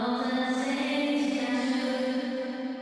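Soloed plate reverb on a vocal track, a sustained, washy tonal tail with a strong low-mid hum and bright shimmering overtones, steady and fairly quiet, slowly fading at the end.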